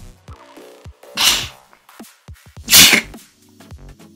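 Two loud, sharp human sneezes about a second and a half apart, each a bright burst standing out over a quiet background of faint clicks and small sounds during gameplay.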